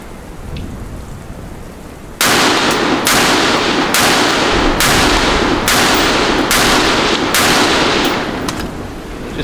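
A 5.56 Honey Badger rifle fires during function testing: after a quiet start, about eight loud, evenly spaced shots crack out in a steady rhythm, each blast trailing into the next.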